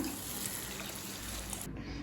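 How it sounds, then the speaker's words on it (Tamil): Tamarind water, dissolved in two cups of water, poured into a small-onion kara kulambu after sautéing until the oil separates; a steady, even pouring rush that cuts off abruptly near the end. "இப்போ புளி கரைசல் சேர்த்துக்கலாம்."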